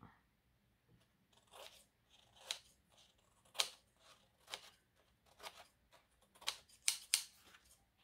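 Small scissors trim tiny bits of paper for a handmade lilac and lavender mini album. The snips come as quiet, sharp, irregular cuts close to the ear, sometimes in quick pairs, with no talk over them.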